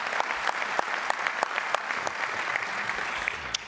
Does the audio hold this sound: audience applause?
yes